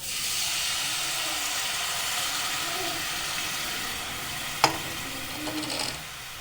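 Melted jaggery is poured into a simmering tamarind puli curry, giving a soft steady bubbling hiss, a sharp clink of the vessel midway and a few gentle splashes near the end.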